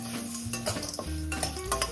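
Metal spoon scraping and stirring a tempering with turmeric in a pan, the stove just turned off, with light sizzling and clinks in the background, steady and close.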